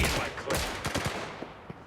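Rapid bursts of gunfire in an online gangster city video game: loud, close shots in quick clustered volleys that fade into scattered single cracks.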